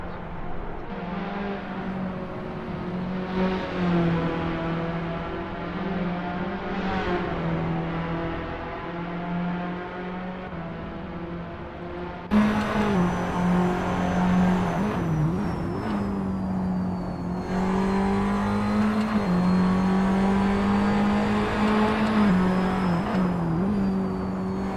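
A Tatuus FA01 open-wheel race car in Assetto Corsa hums along an easy outlap at Watkins Glen. The engine tone is steady and harmonic and rises and falls gently through the shifts, loud and alone.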